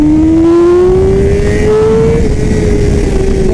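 The race-prepped Yamaha R6 engine screams at close range while held in second gear on track, its pitch climbing steadily as it rings out high and then levelling off, loud and continuous with no talk.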